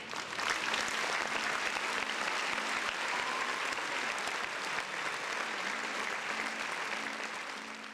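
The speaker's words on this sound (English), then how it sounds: "Round of applause for Corey, man." Continuous applause from a crowd fills the whole stretch, steady and dense from start to finish, tapering only slightly at the very end.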